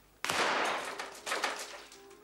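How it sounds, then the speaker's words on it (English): A single warning gunshot cracks out sharply and rolls into a long echoing tail, followed by a second, weaker burst of reverberation before it fades, with no voices over it. "That was a warning shot across your bars."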